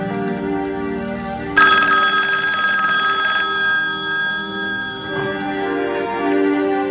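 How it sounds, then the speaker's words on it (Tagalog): A telephone bell rings loudly and steadily in a Tagalog action film scene, its bright ringing tone starting abruptly and continuing with a faint underlying background hum. "telepono"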